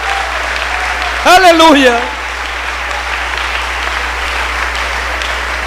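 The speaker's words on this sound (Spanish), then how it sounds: "Dale ese aplauso a Él si lo crees." A church congregation claps steadily through a sermon, a broad continuous wash of applause with a single voice shouting an exclamation over it early on, then the clapping carries on alone.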